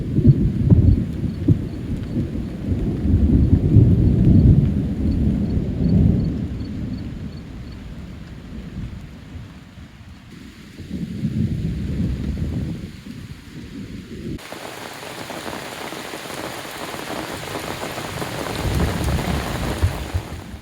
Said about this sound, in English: Got a little thunderstorm rolling in.